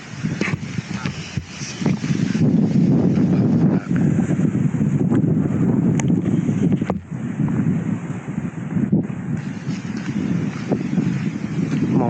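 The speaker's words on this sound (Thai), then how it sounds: "ลมแรงมาก" Strong wind roars and buffets the microphone continuously at a mountaintop tent campsite, a loud low rumble with occasional gusting surges.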